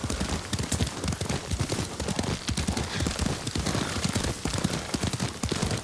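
Horse hooves clip-clopping at a steady riding gait in the Ghost of Tsushima video game, close and continuous throughout, with outdoor ambience behind and no talk.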